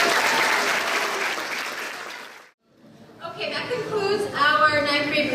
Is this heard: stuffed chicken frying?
no